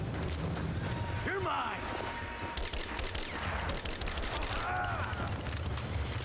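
Assault rifle fire crackles in scattered bursts in Rise of the Tomb Raider, mixed with whooshing game effects and a steady ambient bed, moderately loud throughout.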